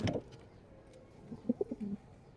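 Pet pigeons of Sirazi and local breeds coo softly inside their coop, a few low throaty calls clustered together and close by, with no talk over them.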